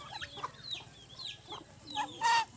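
Turkeys gobble and cluck at a moderate distance on a farm, with scattered calls and a louder burst near the end over low background noise.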